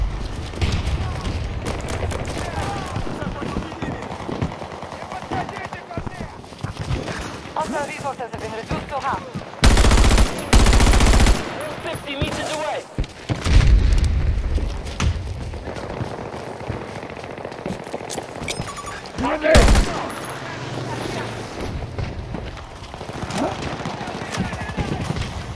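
Bursts of automatic gunfire and heavy explosions fill a Battlefield battle, loud close rattles broken by several sharp blasts, with voices calling out now and then over the din.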